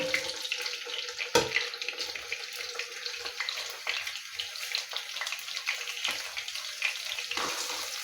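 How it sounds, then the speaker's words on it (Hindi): Finely chopped onion sautés in about half a cup of oil in a pan, giving a steady, moderately loud hiss and sizzle that runs throughout with a few brief clatters and no speech. "प्याज को सौते करना है।"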